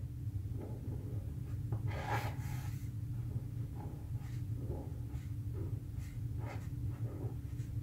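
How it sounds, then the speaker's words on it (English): Kelly Creates small brush pen stroking across HP Premium Choice paper, giving soft, brief scratchy rubs and faint clicks in an irregular rhythm, close up over a steady low background hum. "I still get that little click when the brush comes back down"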